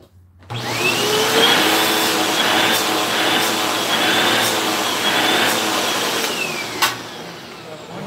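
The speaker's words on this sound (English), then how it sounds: "Vacuum is good to go." A Hoover Wind Tunnel vacuum cleaner switches on and runs with a loud, steady whine and roar for several seconds, with no voices over it.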